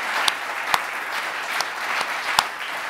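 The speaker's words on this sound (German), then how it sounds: "Applaus!" An audience claps steadily through an innovation award ceremony as a prize is presented, a dense, even wash of applause with a few sharper, louder claps standing out.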